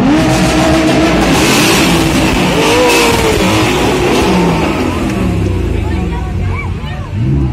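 A Lamborghini sports car revs loudly on a Pune street, its engine roar sustained and close, rising and falling amid traffic noise while people talk excitedly over it.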